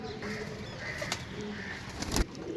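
Pigeons being handled and checked coo and flutter close by, with soft calls and a short burst of wing flapping over a steady ambient hiss.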